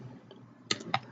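Computer keyboard keys pressed in a point-of-sale program, three sharp close clicks in quick succession near the end over quiet room noise.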